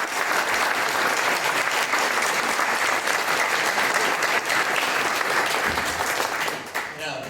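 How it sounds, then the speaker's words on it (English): Sustained, loud applause fills a hall as the audience gives forum candidates one more round, steady clapping throughout that thins slightly at the very end. "I'd like to give all our candidates here one more round of applause"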